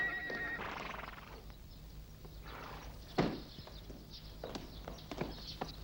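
A horse left outside the gates of a steppe fortress whinnies loudly, followed by scattered hoof clops and footsteps on the ground, with faint outdoor ambience and no speech.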